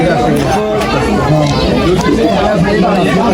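Dense babble of many voices chattering together behind guests eating at a dinner invitation, a steady close hubbub with no single voice standing out.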